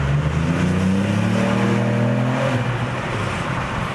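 2021 Ford Puma ST engine accelerating in second gear through a tunnel with the window down, a loud rising engine roar with climbing pitch that then levels into steady road noise.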